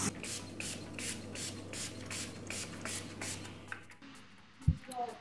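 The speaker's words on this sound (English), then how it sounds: "I spray at least 5 or 6 times within the first hour of me making the soap" A hand spray bottle mists freshly made cold process soap, a run of quick repeated spritzes close by, followed by a faint clunk as it is set down.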